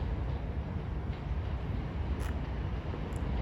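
Train pulling out of a London terminus bound for Grays, a steady loud rumble of wheels and traction noise throughout, no talk.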